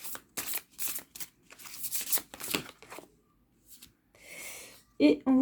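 Oversized tarot cards being shuffled by hand, a run of dry riffling bursts in quick succession, close and crisp, then a pause before a brief papery rustle, with someone speaking French at the end.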